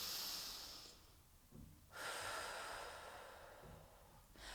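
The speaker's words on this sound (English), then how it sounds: "If you really breathe into the belly, it's gonna look like this." Slow, deep belly breaths drawn in and out through the nose, soft and close, with a long exhale, a short pause, then another full inhale and exhale.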